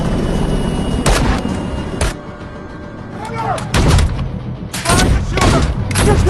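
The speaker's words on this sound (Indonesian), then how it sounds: "sempat terjadi aksi tembak-tembakan" Gunfire from an FBI shootout scene in a film: several loud, sharp broadband bursts ring out at irregular intervals over a rumbling background, with shots clustered near the start, middle and end.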